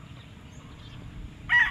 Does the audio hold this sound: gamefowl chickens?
yes